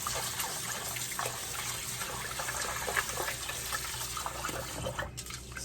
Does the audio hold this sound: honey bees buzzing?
no